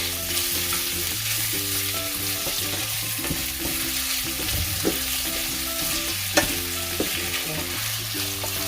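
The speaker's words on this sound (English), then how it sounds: "So let's fry the beef until slightly brown, not too cooked." Beef sizzles in a pan as it browns, an unbroken loud frying hiss with occasional utensil taps and stirring scrapes, close up and free of voices.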